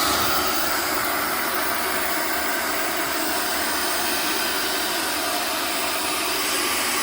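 A turbocharged, supercharged diesel heater with hot oil injection runs with two fans blowing, making a continuous, even roaring hiss that stays steady and close throughout.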